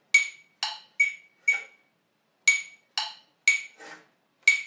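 Metronome clicks tick sharply and evenly in a close, dry series, with a brief pause partway through before the steady beat resumes; no one speaks.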